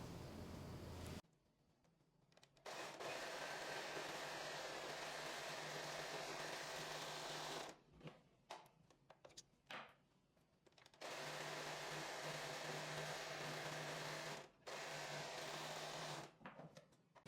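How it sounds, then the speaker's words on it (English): An overlocker stitching the side seams of a dress runs in loud, steady buzzing bursts, several seconds long, separated by short quiet pauses with faint handling noise between runs. "I'm going to overlock the side here."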